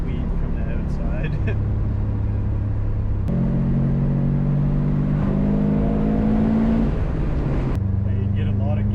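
A Subaru WRX STI drives on a twisty forest road, its engine droning from inside the cabin with steady rumble and pitch shifts as the gears change, while people talk throughout.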